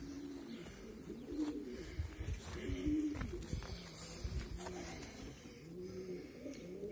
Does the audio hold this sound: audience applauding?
no